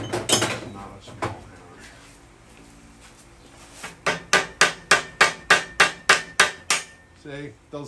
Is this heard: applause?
no